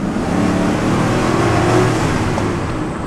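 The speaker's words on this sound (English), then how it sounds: "I hope this gives you a good idea how the truck drives" A pickup truck accelerates hard while driving, its engine rising in a loud, steady roar heard from inside the cab, with no voices over it.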